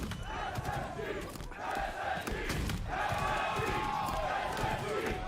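An esports crowd at a Halo match roars and cheers in surging waves, loud and sustained, with a commentator's voice running over it.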